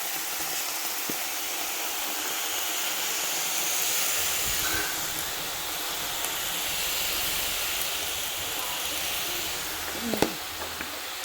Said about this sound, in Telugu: ఆనియన్స్ ఫ్రై అయిపోతాయి.